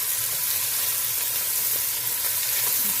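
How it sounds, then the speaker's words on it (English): Chopped onions frying in a pot for chili, a steady loud sizzle and hiss with no letup and no voices. "I'm just going to go ahead and stick onions in here so they can cook up"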